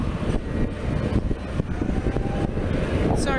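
Airplane engines run at a municipal airport on a cold day as a broad, steady roar fills the whole stretch, loud and close, with a short higher whine near the end.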